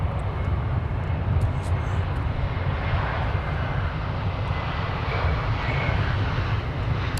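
A jet airliner takes off from Minneapolis–St. Paul airport, its engines a steady distant roar that swells gently and holds across the whole stretch without voices.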